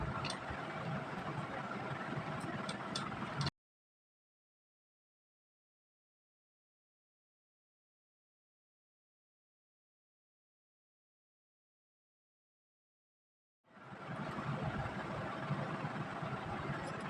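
A sewing machine runs with a steady mechanical hum while stitching a kurti collar seam, close and continuous for a few seconds, then cuts to complete silence before starting again near the end.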